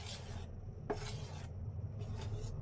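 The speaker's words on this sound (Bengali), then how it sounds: "দিয়ে এবার খুব ভালো করে এটা মিশিয়ে নেব" Patishapta batter mixed with a pinch of salt in a bowl makes three short, soft rubbing stirs separated by brief pauses, quiet and close with no one talking.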